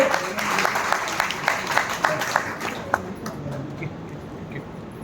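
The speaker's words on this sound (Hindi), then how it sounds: "एक बार स्तुति के लिए आप सब लोग तालियां बजा दीजिए।" An audience at an award ceremony applauds with scattered, moderately loud claps that gradually thin out and fade toward the end.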